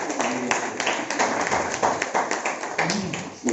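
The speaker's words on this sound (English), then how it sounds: "Yeah, if you like to clap," Seminar audience clapping, a string of close taps and claps mixed with voices talking over the applause.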